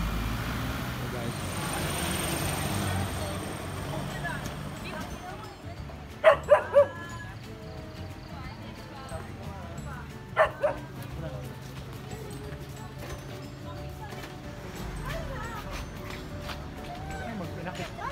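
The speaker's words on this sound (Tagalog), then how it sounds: "ang laki ng aso. Ang laki ng aso." A large dog barks in two short bursts of deep woofs, a few seconds apart, over outdoor ambience and background voices at Lion's Head in Baguio, Philippines.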